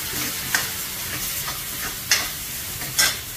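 Onions frying in a pan for street-style pav bhaji, a loud continuous sizzle close up, broken by a few sharp clicks from stirring.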